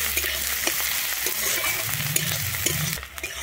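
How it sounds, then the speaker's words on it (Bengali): Chopped onion fries in a pan with asafoetida for Bengali masala cauliflower and peas, a continuous close sizzle broken by scraping stirring strokes and a brief pan clink near the end. "পেঁয়াজটা দিয়ে কিন্তু আমি লাল করে ভেজে নেব"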